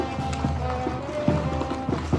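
Horses ridden by charro riders in a December 12 pilgrimage procession clip-clop on pavement, giving scattered, uneven hoof knocks under a steady crowd and street murmur.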